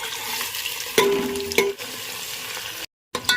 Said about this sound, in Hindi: अच्छा तो ये गया हमारा तड़का।